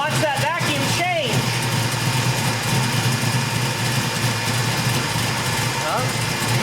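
A Chevrolet 454 big block V8 idles steadily during carburetor idle-screw tuning, a loud continuous rumble with a few brief higher whines and clicks near the start, running alone throughout.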